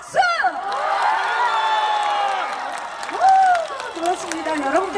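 A crowd at the opening ceremony of the Goseong scallop seafood festival cheers and shouts loudly for about five seconds, with whoops rising over a steady roar and an amplified voice carrying above it.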